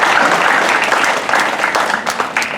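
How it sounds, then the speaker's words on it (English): Loud, dense applause from an audience at a keynote talk, steady clapping for the speakers that thins slightly near the end, with some voices under it. "Come on, big round of applause. Big hand, please."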